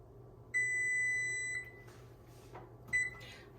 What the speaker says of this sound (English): the timer's just gone off.